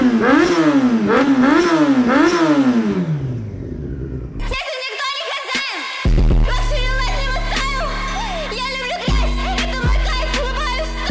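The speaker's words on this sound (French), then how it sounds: "on roule avec un X5, un 3 litres." A BMW X5 with a 3-litre engine revs repeatedly in loud rising and falling surges, then drops briefly before steady engine running continues close by under other sounds.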